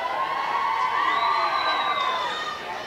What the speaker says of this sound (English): Here we see the crowd of the Trevians.